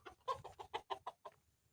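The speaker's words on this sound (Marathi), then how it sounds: "प्युअर गावठी कोंबडे आहेत हे बघा" A free-range country chicken clucks in a quick series of about eight short, rhythmic calls close by, then goes quiet.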